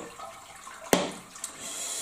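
Homebrewed beer draining from brewing gear, a soft running-water wash with one sharp splash-like burst near the middle and a smaller one shortly after, no talking.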